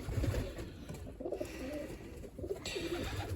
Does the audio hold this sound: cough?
no